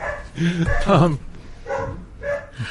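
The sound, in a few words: dog barking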